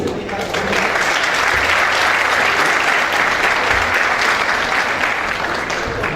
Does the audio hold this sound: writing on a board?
no